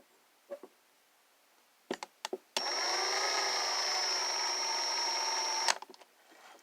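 A few clicks and taps, then a hand drill's steady high-pitched whirring motor runs for about three seconds, drilling freehand without a drill press, before stopping, followed by faint rattles.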